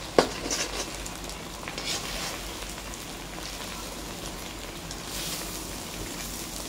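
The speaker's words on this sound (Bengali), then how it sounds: "দেখুন দুটো ডিম দিয়ে করবো আমাদের এগ চাউমিন। দিয়ে ভালো করে নেড়ে ছেড়ে ভেজে নিচ্ছি বন্ধুরা।" Two eggs stir-frying in a pan for street-style egg chowmein give off a soft, rain-like crackle and patter. A sharp clack opens the sound, and moderate sizzling follows, steady and close, with no talking.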